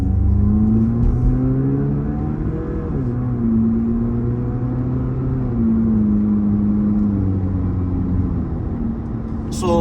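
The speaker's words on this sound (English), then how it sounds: "So the exhaust does give you a bit much more baritone, if you like, when you're driving in race mode." Haval H6 GT driving in race mode, a steady low baritone exhaust drone with shifting engine tones, heard continuously and fairly loud from inside the car with no talk.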